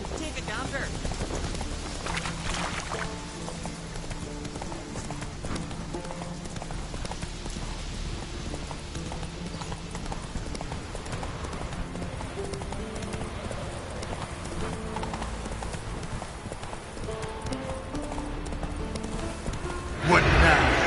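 A horse in The Witcher 3 gallops in a rapid, continuous clip-clop of hooves, loud and close, with occasional snorts or whinnies, rain-like game ambience, and voices talking over it.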